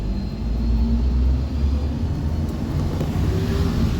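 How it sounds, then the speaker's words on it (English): An STA school bus passes by in the rain, a steady low diesel rumble and road hiss holding close and loud for several seconds with no talk. "Here comes another STA bus."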